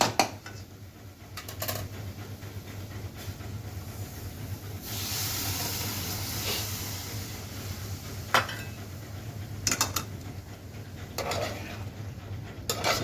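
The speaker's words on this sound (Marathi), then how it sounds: "आपण बॉईल केलेले छोले आहेत ते टाकून परतून घ्यावे" Boiled chickpeas being stir-fried in masala in a pan for chole, a continuous sizzling hiss with intermittent scraping and clinks of a spoon against the pan, fairly close.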